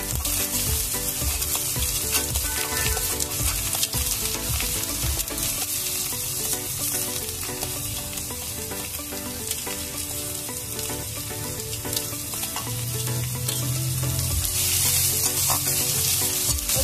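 Onions frying in a pan for egg tadka: a loud, continuous close sizzle with repeated scraping and clinking of a spatula stirring throughout, no voices.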